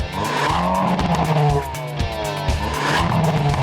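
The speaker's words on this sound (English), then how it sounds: "You listen to the car just idle and being revved up, like the exhaust sounds is so exhilarating." A car engine revs hard and loud, the exhaust roaring in repeated surges with brief dips between pulls, close by and without talk.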